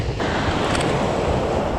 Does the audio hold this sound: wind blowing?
yes